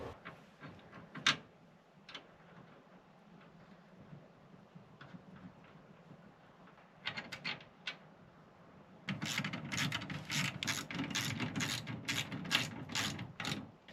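A ratchet clicks in quick runs while nuts are tightened onto the bolts of a Scopema swivel seat in a Mercedes Sprinter van. Short bursts come early, then a sustained, louder stretch of rapid ratcheting near the end, close up.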